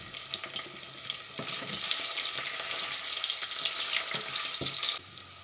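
Potatoes and chickpeas frying in oil for aloo chana sabzi, a bright continuous sizzle with occasional spatters and stirring scrapes, steady and close, with no voices.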